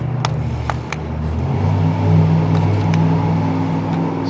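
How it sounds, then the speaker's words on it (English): A XIXOV RC toy car's electric motor whirs steadily and loudly up close, rising slightly as it revs, with a few clicks and knocks from the toy moving. "my little girl likes playing with this little car"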